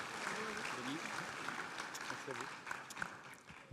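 An audience at a 2019 trophy ceremony applauds a prize winner, steady broadband clapping filling the room throughout, with a few voices talking faintly beneath it.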